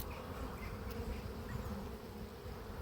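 Honey bees at an open hive in an apiary, giving a steady, dense low buzzing drone, close and continuous with no talk.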